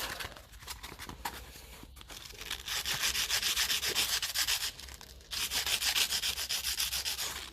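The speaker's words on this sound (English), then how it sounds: "So let's get a bit better sandpaper for that." Sandpaper rubs over the rusty starter part of a 1955 Lucas Ferguson 20 diesel tractor in steady, close, scratchy strokes. The rasping runs continuously and grows louder in two longer bursts, with no talking.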